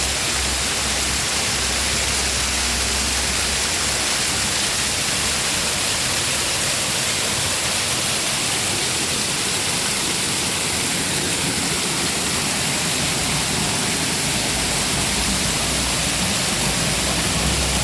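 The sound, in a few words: water springs gushing from a cave, waterfall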